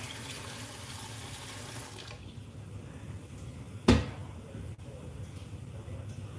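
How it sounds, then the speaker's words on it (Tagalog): Water poured into a cooking pot for a clam soup: a running-water splash for about two seconds, then quiet room sound broken by a sharp knock of a pot or lid, no talk. "Tapos, lagyan natin ng tubig."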